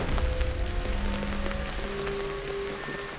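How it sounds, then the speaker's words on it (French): Steady rain patters down on an island camp in Fiji, a dense, even hiss of drops on surfaces, close and continuous with no voices. "Il pleut, on est tous trempés"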